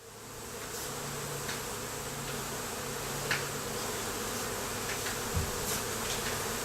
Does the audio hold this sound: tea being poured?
no